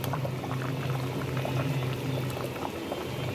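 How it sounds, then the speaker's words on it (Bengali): Hilsa fish curry with eggplant, salt, turmeric and green chili bubbles in a pot at a gentle boil, a close, steady stream of popping and burbling. "হালকা হালকা হালকা ফুটবে, আর এই ঝোল এই যে এরকমই থাকবে"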